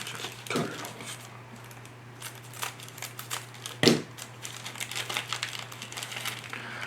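Plastic bag holding model kit tires for an Academy 1/32 F/A-18C Hornet being cut open, giving soft crinkling and rustling close by with one sharp snip or crackle partway through and no talk.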